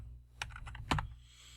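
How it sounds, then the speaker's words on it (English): Typing on a computer keyboard: a short burst of a few crisp, close key taps with quiet gaps, no talking. "We're going to type in Alicia"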